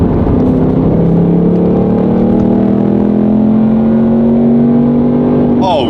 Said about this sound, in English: Now let's put the track mode in here and listen to this sound.